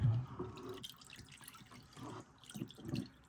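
Fuel draining from the tank of a Dodge Charger 5.7 HEMI during a fuel pump swap, a faint liquid trickle with soft drips and splashes, quiet and close, no talk.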